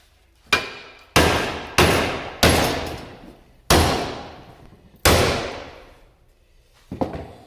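Six or seven heavy metallic hammer blows on a Royal Enfield Himalayan motorcycle sump guard ring out at uneven intervals, each clang decaying slowly, loud and close, with no voices.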